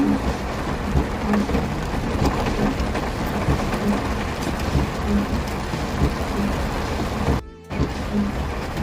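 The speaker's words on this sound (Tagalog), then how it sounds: "Lakas ng ulan na to." Heavy rain pours steadily and loudly in Lipa, Batangas, amid traffic and flooding, a dense continuous downpour with a brief dropout near the end.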